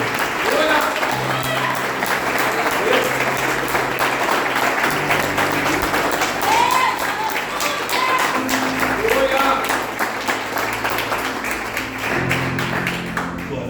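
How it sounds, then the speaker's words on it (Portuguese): A church congregation at a Portuguese-language family service gives a sustained round of applause, dense and steady for over thirteen seconds, with voices and some tonal sounds mixed in beneath the clapping. "dê uma salva de palmas para o Senhor"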